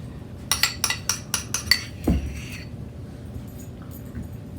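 A spoon clinking against dishes while being fetched in a home kitchen, about seven quick bright metallic clinks in a row followed by a dull knock, then quiet.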